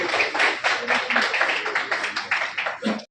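An audience at a business meeting in a hotel hall breaks into applause, dense steady clapping that fills the room for a few seconds before cutting off.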